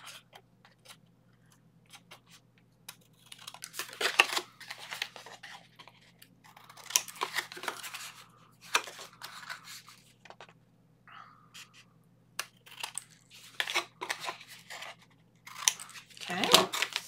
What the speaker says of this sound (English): I'm going to fold this side in.